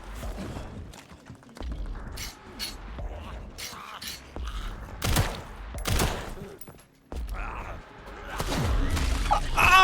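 Rapid gunfire and explosive bursts from the video game Resident Evil 9 on its hardest mode, scattered shots and impacts in irregular clusters, with a voice exclaiming over the action.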